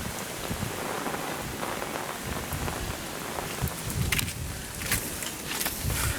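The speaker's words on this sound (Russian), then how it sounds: "Как назло, сегодня дождь не по правилам льет." Steady rain pouring down outdoors, a dense continuous patter on surfaces with occasional heavier drips and splashes, even and moderately loud throughout with no voices.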